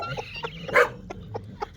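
A rooster in a farm coop gives short, close clucks in quick irregular succession, one louder squawk near the middle, with no voices over it.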